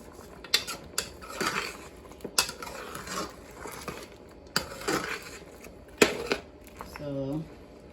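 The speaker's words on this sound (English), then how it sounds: "So just mash it up with my spoon." A spoon mashes pepper in a cooking pot, giving several distinct clinking, scraping knocks against the metal at irregular intervals while a person talks nearby.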